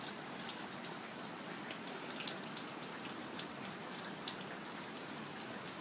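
Steady rain falls during a thunderstorm, a continuous soft hiss with scattered droplet patters on nearby surfaces, faint and even throughout with no thunder or voices.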